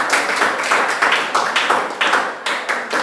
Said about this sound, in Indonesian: Berikan tepuk tangan dulu buat mereka.